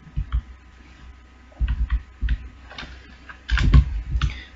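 Code being typed on a computer keyboard comes through as close, uneven clusters of key clicks with short pauses between bursts, plus one louder flurry near the end.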